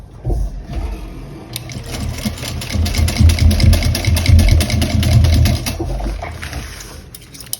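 Sewing machine running steadily for several seconds while basting exterior fabric pieces of a small bowler bag, a close, loud rapid mechanical whir that starts and stops with a click, no talk.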